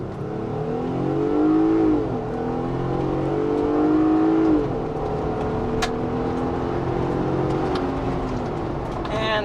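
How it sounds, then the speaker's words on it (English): A 2022 Jeep Wrangler Unlimited Rubicon launches hard from a stop, its engine revving loudly and rising through shifts as heard from inside the cabin, with a person talking over it. "it's time for our traffic light Grand Prix acceleration test"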